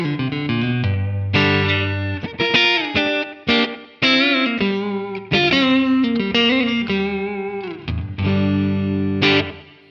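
Clean, twangy Fender amp guitar tone for country playing, with light compression, slapback delay and a touch of reverb. Bright picked notes and chords ring close and loud in uneven phrases with short gaps, and no voices are present.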